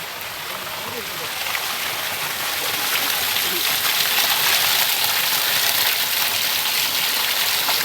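Rainwater from a pond above flows down in a steady stream at the Thiru Neelakanda Vanapechi Amman temple in Vembaiyapuram, a continuous broadband rush that swells slightly and stays loud throughout.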